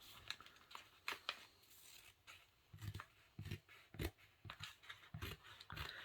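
Scissors snipping excess sticker paper off the edge of a Dollar Tree planner, a series of quiet, close, irregular cutting snips and paper crinkles with no talking.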